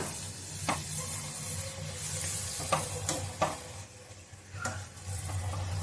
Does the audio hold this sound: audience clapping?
no